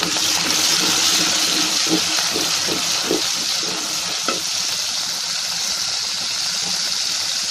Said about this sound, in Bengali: এটা আমি এখন অনেকক্ষণ কষাবো